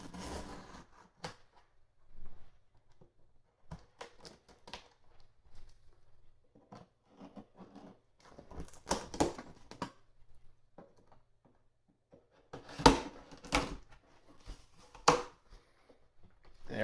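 A multi-tool knife cutting open a sealed cardboard box holding a new 2010 Lenovo ThinkPad W701, with scattered close scraping, slicing and tapping sounds separated by quiet pauses.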